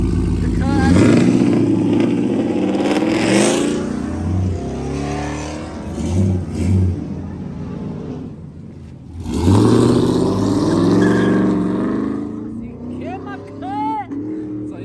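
Cars rev their engines at a crew meet and car show, with loud surging bursts at the start and again midway. People talk over the engine noise, and the revs fall away between the bursts.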